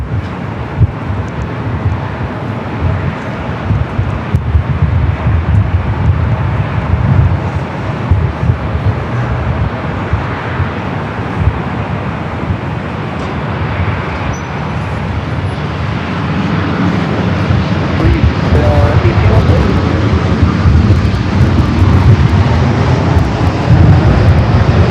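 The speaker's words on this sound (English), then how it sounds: "It's the flight coming from Paris on the 787-9 Dreamliner." A Boeing 787-9 Dreamliner arriving from Paris takes off at LAX, its broad engine roar steady and loud throughout, swelling slightly toward the end and mixed with wind buffeting on the microphone.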